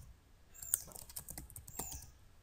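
Fingers type on a computer keyboard while graphics code is entered in VB.NET, giving a brief burst of close, crisp key clicks in an irregular rhythm, clearly audible alone with no talk.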